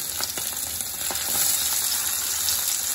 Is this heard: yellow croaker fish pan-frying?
yes